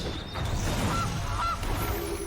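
In the MTG Arena card game, casting a Goose card triggers a goose-honk effect. Two quick honks sound mid-clip, close and clear, over a steady low hum of game audio.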